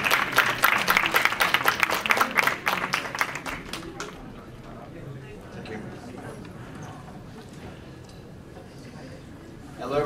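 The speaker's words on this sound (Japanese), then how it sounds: "皆さん拍手で。" Audience applause at a Tokyo ad-tech conference, a burst of clapping from a seated crowd that swells, then fades after a few seconds into low room murmur.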